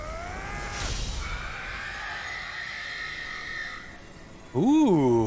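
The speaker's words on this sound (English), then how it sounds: "it made a death scream" A creature's harsh, rising death scream in Final Fantasy XVI, with strained tonal wails and a noisy burst sustained for several seconds, then a short loud warbling cry near the end.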